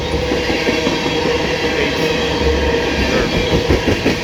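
CSX freight train hauling ethanol on the old B&O mainline rolls steadily past nearby, a loud continuous rumble of wagons with clickety-clack wheel rhythm and no talk.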